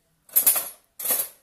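A small metal spoon clinks twice on a hard surface as it is picked up, two short bright rattles close by with a brief pause between them.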